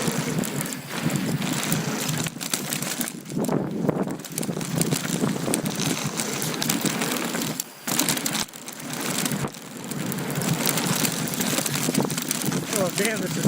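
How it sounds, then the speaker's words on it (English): Strong wind buffets the microphone during a mountain bike ride on the Snow Summit trails. The rush is loud and continuous, with one brief drop partway through, and a voice talks over it. "The wind's trying to blow my bike up."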